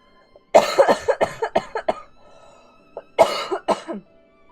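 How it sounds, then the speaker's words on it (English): A person coughs in a rapid series of harsh bursts, pauses briefly, then coughs again a few more times, close and loud. "You've raided a person who's coughing all the time."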